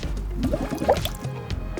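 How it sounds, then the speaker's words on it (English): A bicycle inner tube held under water gurgles and bubbles up close, with small drips and liquid squishes scattered through a busy, moderately loud stretch. "you can submerge the tube in water and check for bubbles"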